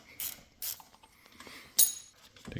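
Ratchet wrench loosening a 10 mm bolt on the shift linkage of a 2025 CFMoto Ibex 450 motorcycle: a few short, close clicking bursts spaced apart, faint and alone in a quiet workspace.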